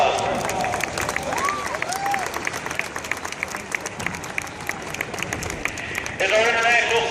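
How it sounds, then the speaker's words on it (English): Audience applause at a special operations forces event for police, port security and Coast Guard, steady broadband clapping with crowd noise and a voice over it, ending in a louder burst of cheering. "Please give them all a round of applause."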